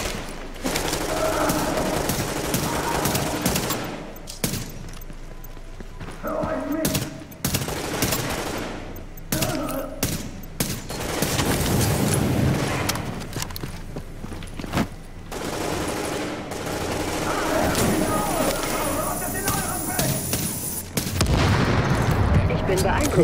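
Gunfire in The Division aimed at a suicide bomber: repeated bursts of automatic shots and booming impacts, loud and close, with short lulls between volleys.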